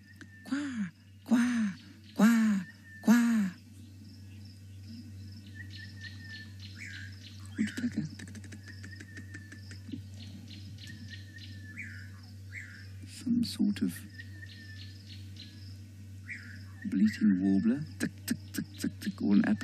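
A Ross's turaco calls on safari in the Maasai Mara, giving bursts of loud, rhythmic, harsh calls at the start and end. Between them lie softer bird chirps and insect trilling over a steady low hum.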